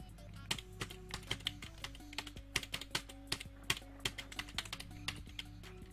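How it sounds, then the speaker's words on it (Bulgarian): Rapid, uneven clicks of computer keyboard keys being pressed while playing Friday Night Funkin, a steady run of sharp taps laid over the game's music, fairly close and moderately loud. "Има шанс да чувате как натискам копчетата на клавиатурата си преди малко"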